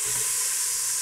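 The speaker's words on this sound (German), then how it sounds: "Rühren das Ganze einmal um, schwitzen die Zwiebeln jetzt so schön mit an." Onions and caraway sweating in a pan, a brief soft, steady hiss of gentle frying with a faint stirring scrape.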